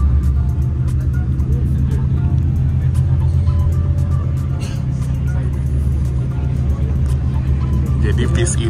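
Low, steady engine rumble from a Mercedes-Benz Jetbus5 MHD bus, newly released by Adiputro, idling close by at a bus event, with faint voices and crowd noise over the drone throughout.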